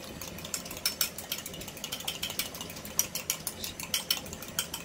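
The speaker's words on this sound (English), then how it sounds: "Whisk it up a little bit." A fork whisks egg wash for brioche in a small bowl, making rapid, light, rhythmic metallic clicks and taps close by, with no talking.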